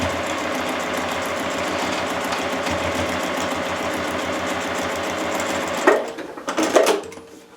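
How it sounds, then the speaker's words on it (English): A sewing machine running a basting stitch along a paper piecing line, a fast steady whirring hum that keeps going for several seconds, then stops with a few louder clunks. "set it up to a basting stitch of about 3 and baste down the line"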